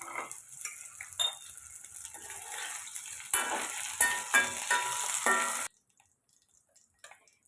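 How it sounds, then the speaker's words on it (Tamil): Sliced okra (ladyfinger) frying in oil in a kadai, with loud, close sizzling and crackling, occasional stirring clinks of a utensil, then an abrupt cut to near silence with faint clatter. "கட் பண்ண வெண்டைக்காயை இதில் லைட்டாக ஃப்ரை பண்ணி எடுத்துக்கலாம்"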